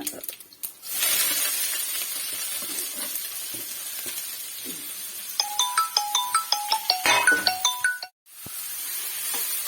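Spinach tossed into a hot pan for a jackfruit-seed thoran hisses in a steady, close sizzle, while a phone ringtone's bright melodic beeps cut in partway through before a brief pause.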